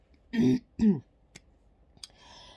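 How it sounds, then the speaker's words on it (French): Two rough coughs in quick succession, close and fairly loud, followed by a few faint clicks and a soft breath in a quiet room. "pardonnez-moi d'avance si vous m'entendez tousser"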